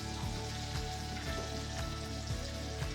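Butter, lemon juice and olive oil sizzling in a pan for shrimp scampi, a steady close frying crackle with continuous spitting pops.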